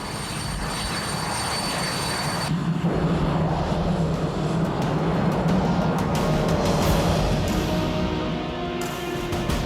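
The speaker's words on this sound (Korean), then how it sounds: "이륙 명령이 떨어지기만 기다리고 있는 두 대의 전투기" Two air force fighter jets sit on the runway awaiting takeoff, their engines giving a loud, continuous, steady roar with a whining edge throughout.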